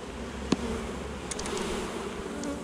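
Honeybee colony with drones present, a steady dense buzzing hum from many bees close by, broken by a few faint clicks and knocks.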